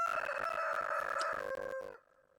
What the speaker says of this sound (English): I think that rooster needs a cough drop.